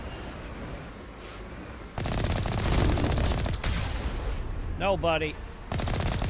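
Enemy gunfire in the video game Mass Effect Legendary Edition: dense, sustained bursts of shooting from about two seconds on, with a short pause and then more shots, under a brief spoken remark.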